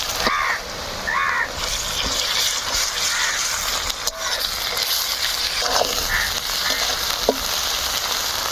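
Onions frying in a pan with a pinch of salt as ginger-garlic paste goes in, giving a steady, close hiss throughout with a few faint caws in the background.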